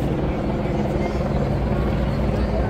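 Helicopters drone steadily overhead during a crowded street parade celebration in Bilbao, a continuous low rumble with dense broadband noise from the crowd throughout.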